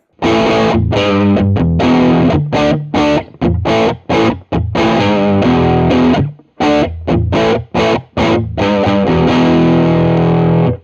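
Teruya Old Soul electric guitar played through its neck pickup position, giving a loud distorted tone in phrased riffs and chords with brief pauses between bursts, alone without talk.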